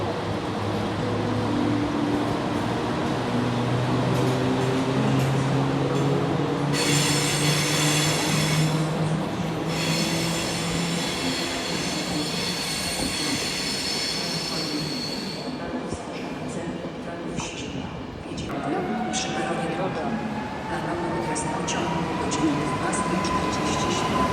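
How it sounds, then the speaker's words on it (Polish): Intercity passenger train pulling away from a station in Kraków, wheels squealing loudly along the rails with a drawn-out tonal screech and steady rumbling, dense rail noise filling the whole stretch. "odjeżdża pociąg Intercity Krakowie P090 15"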